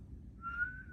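A patient whistles a single clear, sustained note during a cranial nerve exam, faint and alone over a quiet low room hum, starting midway and held to the end.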